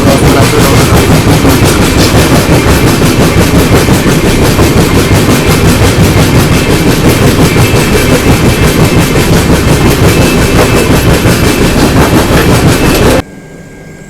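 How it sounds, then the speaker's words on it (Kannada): The Hubli–Vijayawada Express rushes past close by in heavy rain, a loud continuous roar with rhythmic clickety-clack of wheels over rail joints that holds steady for about thirteen seconds before cutting off abruptly. "ಹುಬ್ಳಿ ವಿಜಯವಾಡ ಎಕ್ಸ್ಪ್ರೆಸ್ ಟ್ರೋಲ್ ಮಾಡ್ಕೊಂತಾನೆ ಹೋಗುತ್ತೆ"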